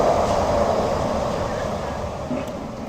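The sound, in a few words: Disneyland monorail train passing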